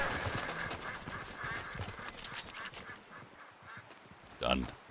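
A duck in Red Dead Redemption 2 gives a short, fairly loud quack near the end, over quiet outdoor game ambience with faint movement sounds and occasional speech.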